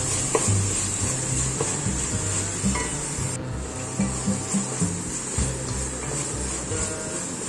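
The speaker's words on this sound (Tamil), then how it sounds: "இஞ்சி பூண்டு வாசனை நல்லா பச்சை வாசனை போகிற வரைக்கும் வதக்குங்க." Ginger-garlic paste sautéing in a pan for chicken biryani, with a steady sizzle and frequent scraping stirs of a spoon against the pan, close and continuous with no talk.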